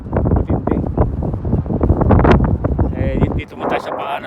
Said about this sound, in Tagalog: Masyado siyang windy